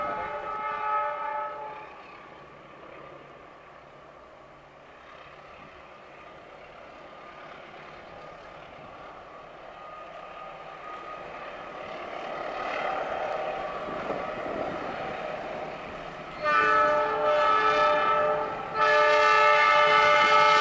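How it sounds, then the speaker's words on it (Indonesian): A Wijaya Kusuma passenger train bound for Cilacap rumbles past at high speed in Jember, East Java, with rising rail noise, and its horn blares twice near the end, loud and sustained. "kita akan menunggu kereta api Wijaya Kusuma Ketapang tujuan"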